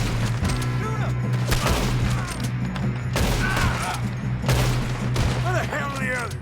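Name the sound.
gunfire in Red Dead Redemption 2 video game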